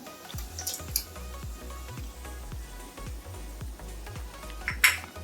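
Curd tipped into frying masala in a pan for egg biryani, wet squishing and a steady spatula tapping and scraping against the pan in a regular rhythm, with a few brief sharper clinks, close by.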